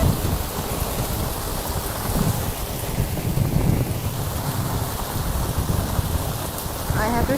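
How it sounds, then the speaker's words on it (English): Heavy rain pours and splashes steadily through an open window during a thunderstorm, a dense, loud wash of drops with wind and low rumbling throughout. "और बारिश की छींटे सब अंदर आ रहे हैं"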